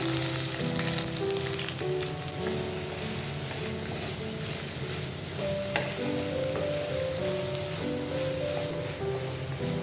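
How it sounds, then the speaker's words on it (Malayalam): Shallots, onion, green chili and ginger sauté in a pan for a fish curry without coconut, a steady dense sizzle running throughout, with background music tones layered over the frying. "ഇനി നമ്മൾ ഇതിലേക്ക് അരിഞ്ഞു വെച്ചിരിക്കുന്ന ഉള്ളി സവാള പച്ചമുളക് ഇഞ്ചി എല്ലാം കൂടെ ചേർത്ത് നന്നായി ഒന്ന് വഴറ്റി കൊടുക്കാം"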